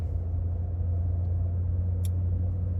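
A car on the drive home fills the cabin with a steady low engine and road rumble, continuous and close throughout, with no talking.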